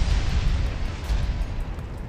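A warship in the naval game Battle of Warships, a Nagato battleship, is hit by a torpedo explosion: a dense, continuous roar of booming low rumble and broad noise, loud and sustained throughout with no talk.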